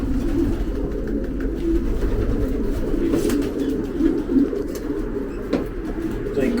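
Racing pigeons coo in low, soft, rolling calls over a steady murmur of background noise, with a few faint clicks.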